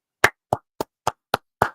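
One person clapping hands six separate times, with slow, evenly spaced, sharp claps close to the listener and no talk over them.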